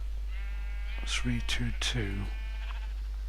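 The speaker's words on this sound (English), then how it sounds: "You can hear the sheep probably." Sheep bleating in the Minecraft video game: three short, close, nasal bleats in quick succession over a steady low hum, with a brief spoken number under it.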